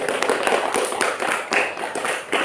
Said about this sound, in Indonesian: beri tepuk tangan kepada kelompok 3